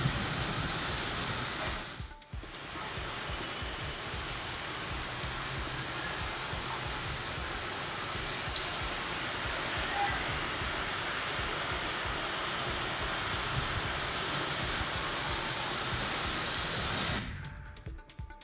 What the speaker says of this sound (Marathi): अचानक वादळी वाऱ्यासह जोरदार पाऊस झाला.